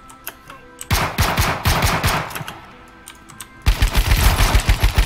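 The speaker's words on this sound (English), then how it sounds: "Shit, someone's shooting at me." Loud bursts of automatic gunfire in the battle royale game H1Z1, with a brief lull and then a rapid, heavy string of shots that resumes near the end.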